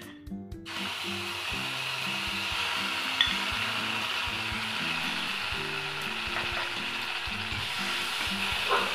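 Garlic chutney frying in a wok over a gas flame with mustard seeds in a little oil, a steady bright sizzle throughout, close and continuous, with a few clicks and taps of the pan beneath.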